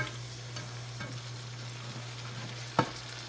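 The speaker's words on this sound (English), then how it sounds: "And shrimp cooks pretty fast here. And we're cooking a lot of it at once." Shrimp cooking in a pan for a creamy shrimp pasta, a large batch at once: a steady, low-level frying hiss runs throughout, with a single sharp clink near the end and no talk.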